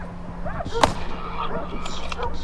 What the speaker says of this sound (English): Gunfire echoed through the forest as the boars scattered.